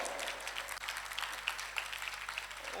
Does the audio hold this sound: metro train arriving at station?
no